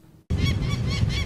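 Peregrine falcon chicks being banded by wildlife biologists at Michigan State University break into loud, harsh, continuous squawking after a brief hush, close by and raucous throughout.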